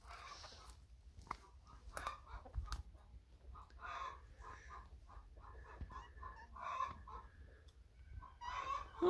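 Hens cluck softly on grass, with scattered short calls and a brief crow-like cry near the end, fairly faint and close with no one talking.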